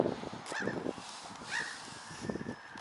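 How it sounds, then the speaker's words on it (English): Outdoors in windy weather, Canada geese give several nasal honks at irregular intervals, moderately close, against a background of gusting air and rustle. "There's that Canadian geese, the white-headed one."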